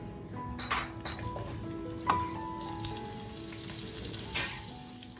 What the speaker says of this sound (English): Heat some oil to shallow fry the paneer cubes.